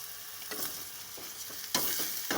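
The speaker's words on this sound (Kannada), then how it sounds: "ಒಂದು ಸಾರಿ ಫ್ರೈ ಮಾಡ್ಕೊಳ್ಳಿ." Bitter gourd and cucumber frying with jaggery in a pan, a steady close sizzle broken by a few sharp stirring scrapes, with no voices.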